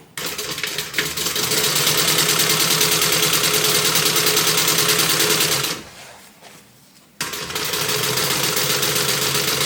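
Sewing machine stitching a zipper flap on a bag project, a loud steady whir of rapid needle strokes that halts briefly midway and then resumes at full speed.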